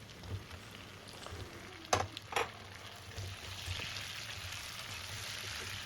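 Potato pieces and pointed gourd fry in hot oil for a Bengali fish curry, giving a soft, steady sizzle with a couple of brief clatters from a utensil near the middle.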